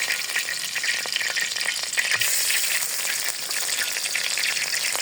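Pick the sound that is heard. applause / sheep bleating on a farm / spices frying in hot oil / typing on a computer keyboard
spices frying in hot oil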